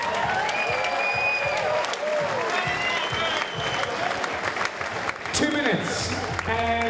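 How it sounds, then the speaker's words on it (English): Crowd applause and cheering at a SuperFight 8 combat sports event for young fighters, with an announcer's voice talking over the dense, steady clapping and a few whistles. "Ladies and gentlemen, give these young boys a round of applause,"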